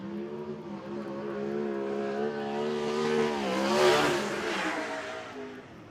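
A race car laps Ruapuna Speedway in Christchurch during a time-trial session: a distant engine note rises steadily, swells as the car passes closer, then eases away, heard alone with no talk.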